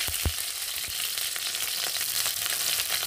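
Dried red chilli and garlic sizzle steadily in hot oil, a loud, close, continuous frying hiss with a few sharp pops near the start.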